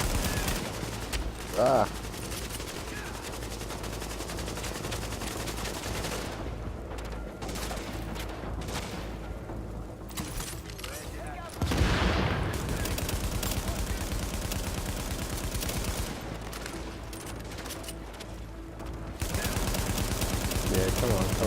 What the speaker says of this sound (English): So it's him shooting me.